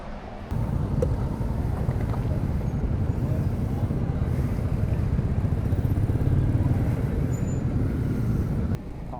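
Royal Enfield Meteor 350 motorcycle riding on an open road from Ahmedabad to Kachchh, with a steady close engine drone and heavy wind rush running without a break for the whole ride.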